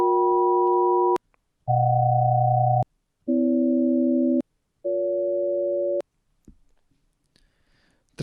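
Additive synthesis tones with reduced amplitude sound out as four separate steady multi-harmonic chords, each about a second long, separated by short silences and changing in pitch, followed by faint clicks.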